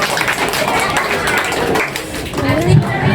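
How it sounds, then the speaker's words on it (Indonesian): Students and teachers clap together at an Indonesian middle school reading event, a dense, steady patter of applause filling the room for a few seconds, with voices mixed in underneath. "Beri tepuk tangan dulu buat semuanya."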